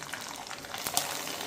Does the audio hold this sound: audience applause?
no